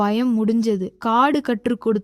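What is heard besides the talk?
None of the usual background noises is heard.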